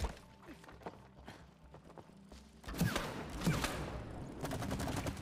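Video-game gunfire from target shooting in It Takes Two: scattered single shots at first, building into denser, louder volleys toward the end, mixed with footstep-like thumps.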